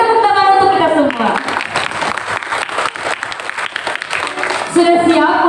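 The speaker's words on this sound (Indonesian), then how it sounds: "Beri tepuk tangan untuk kita semua." A church congregation claps during a Sunday school Christmas celebration, a dense burst of applause running through the middle, with a voice speaking over the start and the end.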